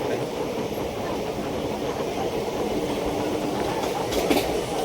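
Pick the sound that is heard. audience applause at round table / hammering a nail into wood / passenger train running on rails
passenger train running on rails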